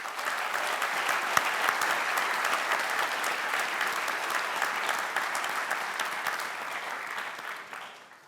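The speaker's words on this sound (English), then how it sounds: "Please join in another round of applause for these 2022 Ivy Day Awards recipients." A ceremony audience gives sustained, dense applause for award recipients that holds steady for several seconds and then tapers off at the end.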